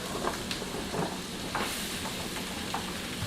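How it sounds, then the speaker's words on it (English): Garlic butter sizzling in a pan, a steady hiss with scattered sharp pops throughout, close and moderately loud with no voices. "Fucking butter's still popping"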